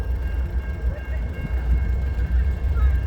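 A CN freight train passing on railway tracks in Montreal, a loud continuous low rumble and rolling clatter, close by and sustained throughout.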